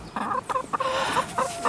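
A farm chicken clucking in quick repeated bursts, close and fairly loud, several clucks in an uneven rhythm with no speech over them.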